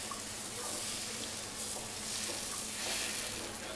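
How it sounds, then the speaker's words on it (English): A crepe cooks in a searing hot pan, giving off a dense, steady sizzle that stays close and loud from start to finish. "It's a searing hot pan, therefore the crepe cooks quickly, browns on the outside"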